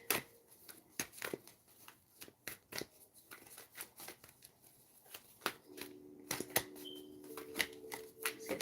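Tarot cards being shuffled by hand, a run of quick, sharp riffling snaps and slaps at irregular intervals, close and quiet with a faint tone in the background and no talk.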